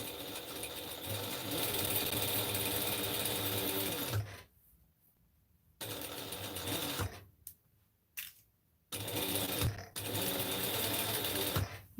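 An industrial sewing machine whirs in several bursts of different lengths, close and steady, stopping and starting under foot control, with silent gaps between runs.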